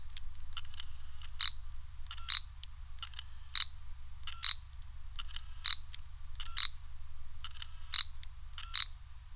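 Autofocus motor of a Fujifilm XF 35mm f2 lens, recorded close with a microphone over the lens: about ten short, faint whirring clicks at roughly one-second intervals against near silence.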